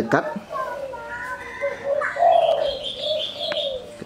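Soft, close cooing notes from a spotted dove, kept as a pet bird being tamed, with a couple of brief chirps mixed in, while a person talks over the bird.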